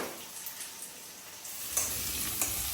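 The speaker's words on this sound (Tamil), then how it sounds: "இப்போ வந்து வெங்காயத்தை போட்டுறேன். வெங்காயம் கொஞ்சம் நேரம் வதங்கட்டும்." Onions sautéing in a pan give a soft, continuous sizzle that grows slightly denser toward the end, with faint occasional stirring scrapes and no voices.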